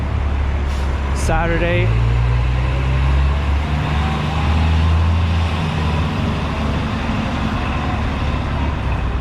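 Constant city street traffic roars along Fifth Avenue in New York, with engines, passing vehicles and a rising horn-like tone early on, loud and steady beneath someone narrating throughout.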